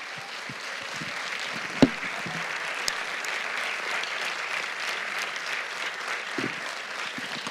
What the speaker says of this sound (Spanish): Fuerte ese aplauso para el Rey de Reyes y Señor de Señores